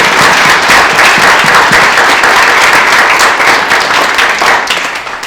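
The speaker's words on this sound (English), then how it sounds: "Applause." An award-ceremony audience breaks into loud, sustained applause, many hands clapping densely together close to the microphone, fading slightly toward the end.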